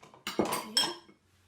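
A small spatula stirs melted butter into a festive scalloped corn mixture in a dish, giving a short burst of close scraping and clinking against the dish before it falls quiet.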